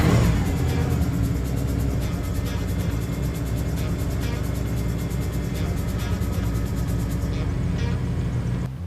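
A turbocharged Toyota 1UZ V8 in a street-legal drift car fires up on fresh plugs and settles into a loud, lumpy idle with a rapid, even pulsing rumble, a voice briefly present over it.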